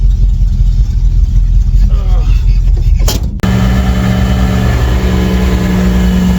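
A classic rollback tow truck labours up a big hill in second gear with its engine revving hard and loud. A sudden shift halfway through brings a steadier, droning pull.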